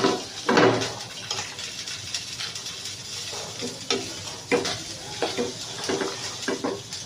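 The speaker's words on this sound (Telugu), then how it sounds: "ఇప్పుడు మనం అంతా మిక్స్ చేసుకుందాం." A spoon stirring tomato coconut chutney in a pan just after the tempering is added, with soft scraping strokes and faint sizzling, a few louder knocks against the pan, close with no talking.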